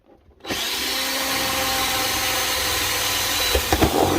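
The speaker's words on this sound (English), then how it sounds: "that's a hole drilled in the back there" A power drill bores a hole through the plastic back of a propagator box for a DIY heated propagator, whining loud and close in one sustained run after a brief quiet start, with small bumps of strain near the end.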